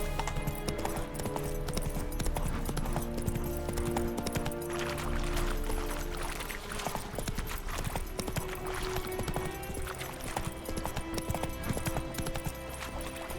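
Roach, the horse in The Witcher 3, gallops in a steady, fast clip-clop of hooves under game music, with a faint whinny, continuous and fairly loud throughout, no talk.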